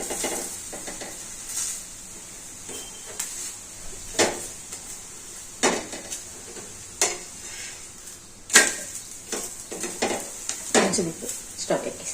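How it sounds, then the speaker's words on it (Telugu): A cabbage mixture pressed flat and roasted in oil in a pan sizzles steadily, with repeated scraping and tapping of a utensil against the pan at irregular intervals, close and fairly quiet. "ఇట్లా ప్రెస్ చేసుకొని కాల్చాలండి."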